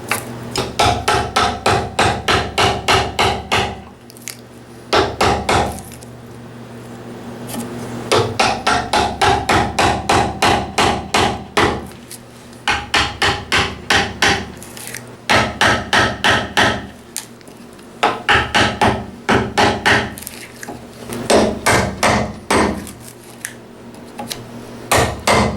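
A mallet strikes a Japanese chisel while a mortise is chopped in wood. Loud, sharp, rapid blows come close up in rhythmic bursts of a dozen or so, each separated by a brief pause.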